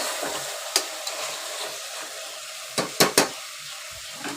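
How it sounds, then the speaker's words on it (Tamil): Marinated chicken for biryani sautéing in oil, a soft continuous sizzle close by, punctuated by a few sharp ladle scrapes and knocks against the pot, no voices. "சிக்கன் நல்லா வதங்கட்டுங்க."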